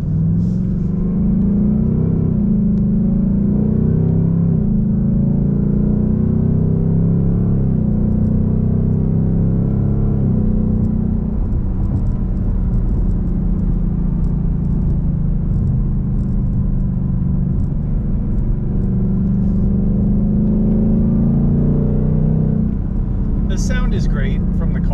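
A Ford Mustang Dark Horse on a track in sport mode drones loudly under steady acceleration, its engine note rising and shifting over a long stretch, with a person talking throughout.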